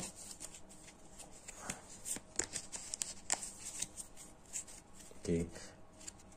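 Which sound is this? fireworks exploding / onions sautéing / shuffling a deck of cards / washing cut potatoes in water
shuffling a deck of cards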